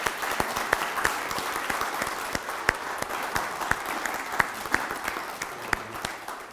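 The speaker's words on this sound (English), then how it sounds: "let's have a round of applause for all the candidates" Steady applause from an indoor audience at a candidates night, dense overlapping clapping with a few sharper individual claps standing out, sustained throughout.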